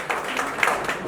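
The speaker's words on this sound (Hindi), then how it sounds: "जोरदार तालियों से स्वागत और अभिनंदन करें जगदीश जी सुगन का" Audience applause greets Jagdish Prasad Sugan at the Maharaja Ajmeedh Jayanti Utsav and Senior Citizen Samman Samaroh 2023, a steady, dense wash of clapping from a hall crowd, fairly close and sustained throughout.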